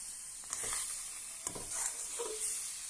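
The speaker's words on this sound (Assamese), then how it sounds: "ঘনাই ঘনাই লৰাই দিব, নহ'লে ধৰি যাব।" Assamese olive jelly is stirred in a pan over low gas flame, giving a steady soft sizzle with a few scraping strokes of the spoon, close up and without talk.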